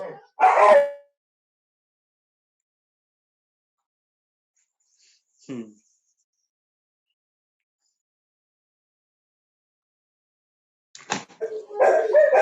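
A dog barks in a few loud, close bursts, with a short whimpering yelp in the middle and more barking at the end, separated by silence.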